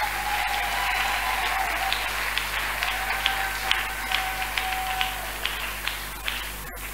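A church congregation applauds and cheers steadily for about seven seconds, a dense continuous wash of clapping with a few sharper claps standing out, no speech over it.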